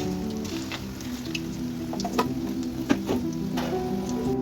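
Chicken kofta meatballs frying in hot oil, a steady crackling sizzle with scattered sharper pops and spits, moderately close and continuous, with no talking.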